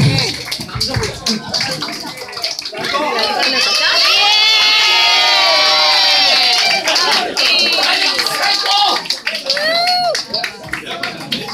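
A live concert audience breaks into loud sustained applause and cheering for a Japanese band, with shouts and whistles rising to a dense peak mid-clip, then easing as crowd chatter carries on.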